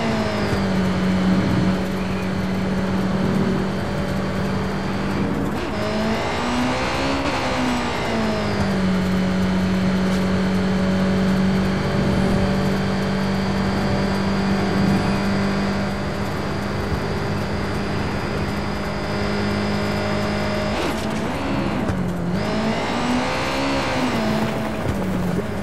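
Car in Watch Dogs 2 on PS4 with arcade-style handling, a steady engine drone that rises and falls as it revs and accelerates through turns, with occasional tire squeal; no talking.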